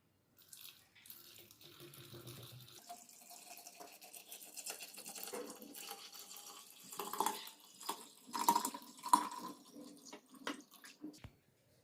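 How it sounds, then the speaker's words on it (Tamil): Water poured into a bottle for homemade banana wine, a litre at a time, gives a running, splashing trickle that swells and gurgles louder toward the end, with no talk over it. "இதில் நம்ம ஒரு லிட்டர் தண்ணி ஊற்றிடலாம்"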